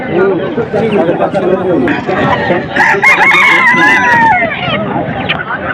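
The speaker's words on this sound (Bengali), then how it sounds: "দু বছর বিশাল বড় মুরগি" Roosters crow and chickens cluck amid a busy morning poultry market, with loud overlapping crows rising above constant crowd chatter and people talking throughout.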